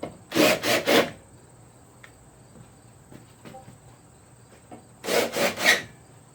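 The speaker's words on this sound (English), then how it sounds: "Let's countersink it, just deburr it, and see if it fits." Countersink bit deburring a freshly drilled hole during a Lawn Boy push mower refurbish, heard as two close bursts of three quick rasping scrapes each, separated by a quiet pause with faint clicks.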